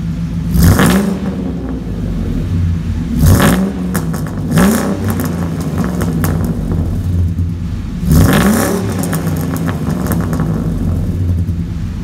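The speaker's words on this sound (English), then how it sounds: "I wanna show you guys my new exhaust because I'm in love with it" A van with a newly fitted exhaust revved repeatedly while parked, four sharp throttle blips rising and falling over a steady idle rumble, close and loud, with no talking.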